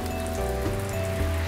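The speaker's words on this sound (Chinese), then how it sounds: "哎，下雨了。" Steady rain falls in a continuous hiss at a moderate level, with a low hum and a faint tonal drone underneath and no voices.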